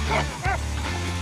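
A hog hunting dog in Georgia gives a single sharp bark close by, short and loud against a steady low outdoor background.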